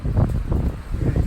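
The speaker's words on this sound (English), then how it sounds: "Anyway, but quite windy today." Strong wind on a Great Smoky Mountains trail, gusting buffets rumbling across the microphone in low, uneven bursts, loud and close with no voices.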